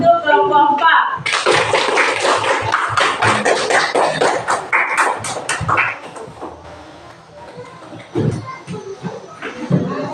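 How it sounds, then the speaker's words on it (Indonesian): Schoolchildren in a primary classroom break into dense, sustained clapping that swells and then thins out into scattered claps, with voices murmuring underneath. "tepuk tangan untuk kelompok 4"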